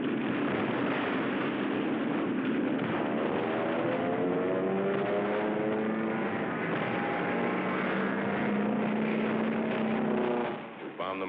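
A World War II combat aircraft drones steadily overhead during a strike at Tarawa, a loud, continuous propeller-engine roar that holds level throughout and cuts off at the end.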